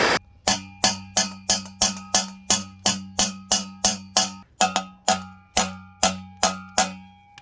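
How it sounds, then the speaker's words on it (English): Sharp metallic hammer blows from a small body hammer striking an exhaust pipe to dimple it, about seventeen evenly paced ringing impacts close up with no talk. "And I'll hammer that in with a little body hammer."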